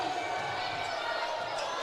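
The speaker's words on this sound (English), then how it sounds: "Crowd making a lot of noise here in the new facility at Woodford County" Loud, steady crowd roar inside a new gym at a Woodford County high school basketball game against Anderson County, continuous noise with a commentator talking over it.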